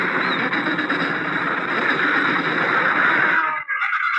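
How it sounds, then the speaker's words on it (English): Adult penguins at a crowded colony keep up a loud, continuous racket of overlapping braying calls from many birds, with no pauses, before the din briefly dips near the end. "Here's the sound of some penguins at a penguin colony."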